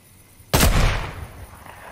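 A single loud gunshot bursts out in the video game Fortnite, a sharp blast whose echo tails off over about a second.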